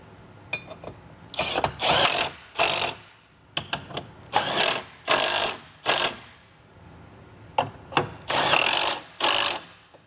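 Bolts on a Westin R5 modular nerf bar step for a 2023 Ram 2500 are tightened with a ratchet, giving repeated short bursts of fast clicking separated by pauses, close and fairly loud.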